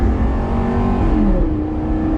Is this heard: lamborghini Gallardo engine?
yes